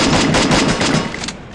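Rapid gunfire from the Free Fire battle-royale game, a dense burst of repeated shots that stays loud throughout and fades slightly toward the end, with no talking over it.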